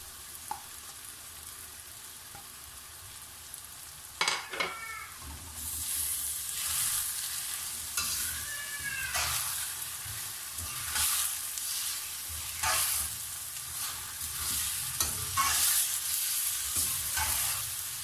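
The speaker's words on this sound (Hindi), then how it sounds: "साथ ही ये रेशा की हुई चिकन भी डाल देंगे।" Shredded chicken fries in a pan with a steady, loud sizzle while a utensil stirs it in repeated scraping strokes, made for a spicy chicken jalfrezi.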